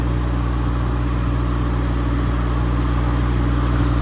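Standby generator engine running at full RPM, a steady, loud, low droning hum with no talking.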